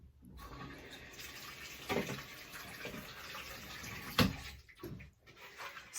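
Water is stirred and mixed by hand in a kitchen bowl for soaking thrifted shirts, giving soft sloshing with a few sharper splashes, one standing out near the end, up close and without talk.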